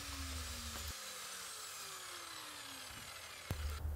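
A miter saw cuts through wood for a mallet build, with a steady motor whine and grinding blade noise running throughout, a brief pause near the middle, and a sharp clack as the cut finishes near the end.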